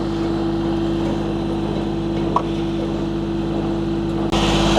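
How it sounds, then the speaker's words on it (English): A tractor engine powering a Japa 365 firewood processor through its PTO drones at a steady idle, a low, constant throb with a tonal hum that shifts slightly near the end. "I'm gonna shut the tractor down here"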